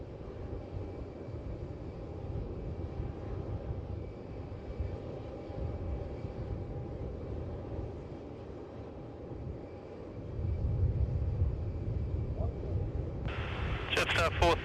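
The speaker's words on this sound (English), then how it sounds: "Comes the big A330 touching down" Jetstar Airbus A330 touching down at Melbourne Airport, a distant low jet engine rumble that swells into a louder roar toward the end, with radio chatter and voices over it.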